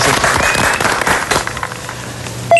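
A studio audience on a cooking variety show bursts into applause, loud dense clapping up close that gradually thins and fades over a couple of seconds.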